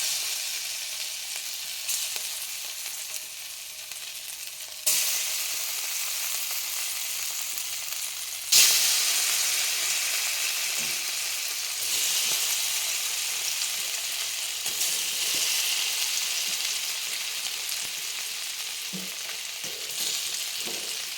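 Marinated paneer shallow frying in vanaspati and butter in a pan, a loud, steady, close sizzle with sharp bursts as pieces are added and stirred, no talking.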